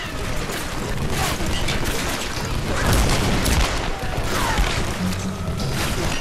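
Enemy gunfire in Tomb Raider: Definitive Edition, a dense barrage of shots and booming impacts that stays loud and continuous throughout, with a voice talking faintly beneath it.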